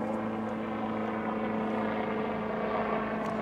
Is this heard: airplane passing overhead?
yes